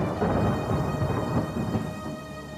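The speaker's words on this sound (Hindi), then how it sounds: "अगले दिन बहुत जोरों की बारिश हो रही थी।" Heavy rain pours down steadily while low thunder rumbles beneath it, sustained and fairly soft, with no voices.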